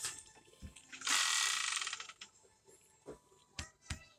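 A board game spinner flicked and clicking fast as it whirls, a dense ratcheting burst of about a second that slows and stops, with a few scattered taps and knocks before and after.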